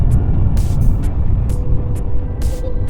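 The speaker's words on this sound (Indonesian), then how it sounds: "di sebelah kirinya ada 1 unit lagi bus yang Kerantau" An intercity bus rumbles past on a busy road, a loud close engine roar with several sharp bursts of air-brake hiss and clatter, other traffic noise around.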